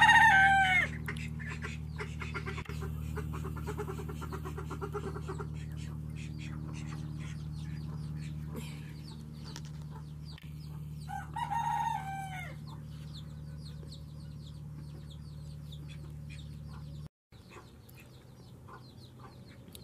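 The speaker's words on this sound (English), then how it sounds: "They just warned about something coming. Chickens are so smart." Backyard chickens on a small homestead raise a cackling alarm call, with clucking and crowing-like bursts over a steady low hum, apparently in response to a passing hawk.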